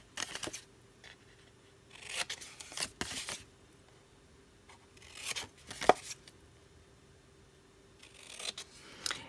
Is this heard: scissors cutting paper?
yes